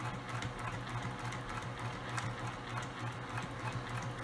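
A sewing machine back-stitches the handle of a fabric zipper tote bag with a quiet, fast, even mechanical chatter that keeps an unbroken rhythm the whole time.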